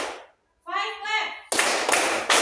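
Children clapping their hands in a counted rhythm in a classroom, a few sharp bursts of claps following a voice.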